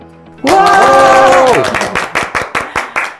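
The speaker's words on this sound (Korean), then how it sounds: "지금 이 자리에 선 세 분이 박수를 치셨지만" Three people standing on a talk-show stage clap briefly: a loud sustained chord opens the clip, then a short run of distinct, evenly spaced claps from a small group, close and clear.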